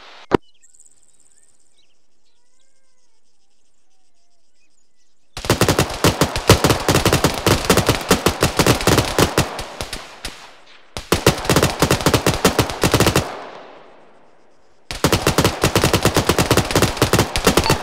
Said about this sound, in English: I'm gonna put some fire on that technical, because he's looking at us.